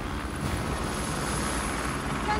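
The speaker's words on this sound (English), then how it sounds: "we have a helicopter here to take you back to civilization" A helicopter arrives at a remote outdoor finale location, its engine and rotor making a loud, continuous droning roar that fills the whole stretch with no voices over it.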